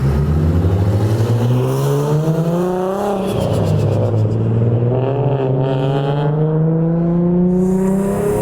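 A boosted Nissan Z on cold tires accelerates hard with wheelspin, its turbocharged engine revving up loudly in a rising whine through gear changes, close and continuous with no voices.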